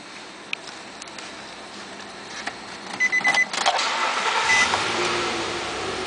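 A 2006 Nissan Pathfinder SE is started: a quiet interior hush, then a short cranking burst as the engine catches and settles into a steady running hum, close by with no talking.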